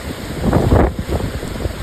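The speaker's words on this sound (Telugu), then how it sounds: "తుఫాను వచ్చినప్పుడు అసలు ఎంత వేగంగా ఆ గాలులు వీస్తాయో" Strong storm wind gusts roar through trees near the sea, a loud, continuous rushing broadband noise with heavy wind buffeting the microphone and no speech.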